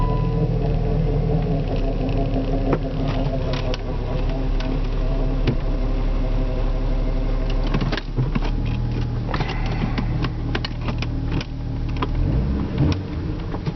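A vehicle driving after a torque converter repair, a loud steady engine and road rumble inside the cabin with faint rattles and buzzing throughout, no voices.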